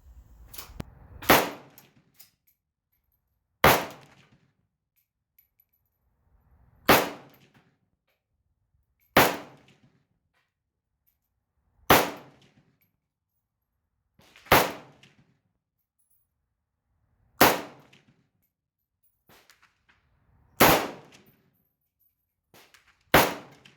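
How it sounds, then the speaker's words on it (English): A Romanian MD 63 rifle fires 7.62x39 Monarch ammunition at night, nine sharp, loud single shots spaced about two to three seconds apart, each with a short decaying echo and quiet gaps between, no voices. "It's kind of fun shooting these at night. A lot of times they'll throw off like a fireball."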